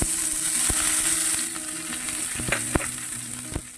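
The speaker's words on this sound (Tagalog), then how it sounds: "naglagay na tayo ng mantika mainit na. Pagsabayin ko na ilagay ang bawang sibuyas." Garlic and onion dropped into hot oil for ginisang upo, sizzling steadily up close, with a few sharp utensil clacks and scrapes toward the end and no voices.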